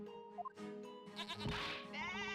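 A goat bleats loudly in the video game Professor Layton vs Phoenix Wright, a wavering, strained cry that swells and repeats after a few short musical game tones, with no talking.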